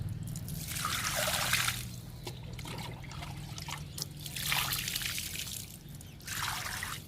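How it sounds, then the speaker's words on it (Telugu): Kitchen-waste liquid fertilizer poured onto bitter gourd, ridge gourd and snake gourd plants in a garden: three separate quiet pours of liquid splashing and trickling onto soil, with pauses between. "ఈ 3 పాదులకి లిక్విడ్ ఇచ్చేద్దాము."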